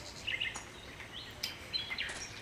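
Faint, scattered bird chirps and calls sound through a forest in the hunting video game Cabela's Big Game Hunter 2012, thin and distant over a soft ambient hiss, with no talking.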